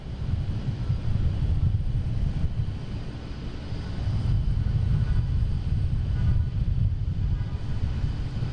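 A JetBlue airliner out of JFK passes at Boston Logan, a steady broad engine roar with low rumble swelling slightly midway, loud and alone.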